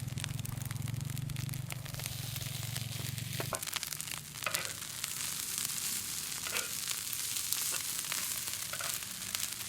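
Nasi goreng with meatballs and egg sizzles and crackles in a pan, a loud low bubbling for the first few seconds, then a quieter, spattering fry with scattered clinks of stirring.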